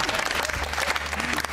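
A television studio audience claps through a short, dense burst of applause with no break.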